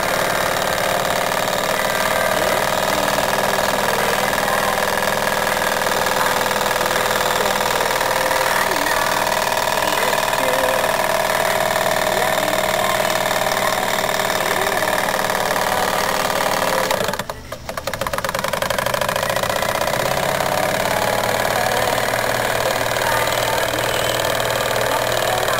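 A Jensen 25 toy steam engine runs steadily and close, giving a continuous mechanical whir and clatter that briefly dips near the end before carrying on.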